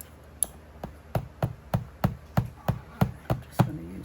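A steady series of about eleven sharp metallic taps from the back of a pair of scissors, evenly spaced and fairly close, with a quiet pause between each strike.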